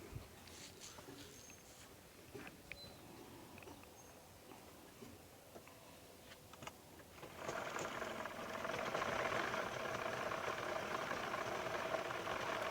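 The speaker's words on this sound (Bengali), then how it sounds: "মাপ অনুযায়ী আরেকটা সেলাই দিয়ে নিলাম।" A sewing machine stitches a kameez, a soft mechanical whir that rises into a steady, louder run about halfway through. Faint clicks and handling noises come before it, and there is no speech.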